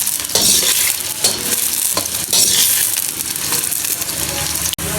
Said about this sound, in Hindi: प्याज डालूँगी। हाफ के जी के करीब मेरे प्याज हैं और 1 पाव के करीब घी है।